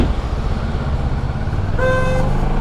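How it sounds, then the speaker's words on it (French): Over a steady low rumble of motorcycle engine noise on a road ride, a car horn honks once, a short bright toot near the end, fairly close. "ça klaxonne"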